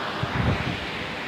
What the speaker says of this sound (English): Do you think the viewers can hear us over this river?